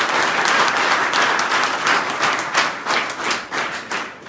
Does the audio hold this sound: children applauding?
yes